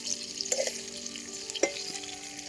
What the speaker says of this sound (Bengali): পটলটা আরেকটু ভেজে নিতে হবে।